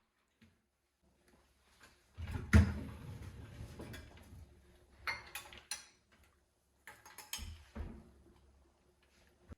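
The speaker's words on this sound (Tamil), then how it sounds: "காலையில எழுந்து வந்த உடனே முதல்ல நான் பார்க்குற வேலை இந்த டிஷ் வாஷரை அன்லோட் பண்ணுறது தான்." Dishes, cutlery and cupboard sounds come from a dishwasher being unloaded in a home kitchen, heard as scattered clinks and clunks, one louder knock, and a few sharp rattles with quiet gaps between them.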